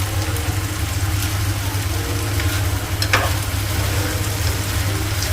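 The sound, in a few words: onions being sautéed in pan for chilli paneer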